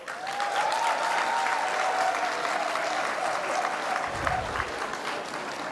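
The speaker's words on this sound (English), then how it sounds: "Please give yourself a round of applause." Sustained applause from a graduation ceremony audience, dense and steady clapping filling the hall at even loudness throughout, with a faint tone briefly carrying over it.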